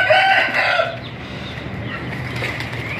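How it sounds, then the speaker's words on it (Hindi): Chickens and a rooster cluck loudly close by at the start, then the calls fade into softer, scattered clucking over a steady outdoor farmyard background. "वो हमारी वाइट वाली मुर्गी, ये हमारा शहनशाह और बसंती।"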